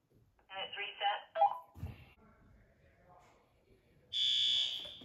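A 1958 school fire alarm under test gives a loud steady electronic tone near the end, preceded by shorter buzzing and beeping tones, with faint speech and handling noise in between.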